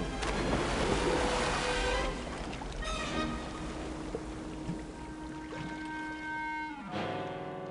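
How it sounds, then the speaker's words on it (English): A cartoon waterfall rushes and splashes into a pool below in the Winnie the Pooh read-along game, a loud watery wash over sustained musical tones that thins out and fades. "Both Piglet and Pooh toppled over the falls and down into the pool below."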